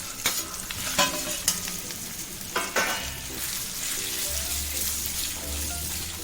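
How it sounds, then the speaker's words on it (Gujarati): Poha and semolina mixture with pieces of tikki stirred in a pan, a spoon scraping in uneven strokes with a few sharper knocks early on, then a steady low sizzle underneath, close and moderately loud. "હલાવીને બરાબર મિક્સ કરી લેવાનું છે"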